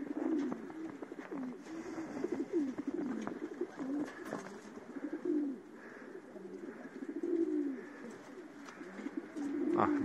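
Pigeons coo repeatedly in low, throaty rolling calls, several overlapping birds close by, steady and continuous throughout.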